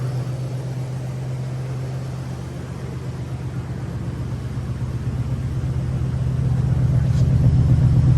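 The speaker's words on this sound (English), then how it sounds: "got a running motor, no irregular noises yet" Steady low idle of a 1997 Lincoln Town Car engine, recently repaired after timing chain failure, running smoothly close by with an even rumble that swells slightly toward the end.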